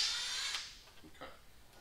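Power tool whirring near a Mack truck as a nut comes off, a loud high burst that fades out over about half a second, followed by faint clinks and quiet shop noise.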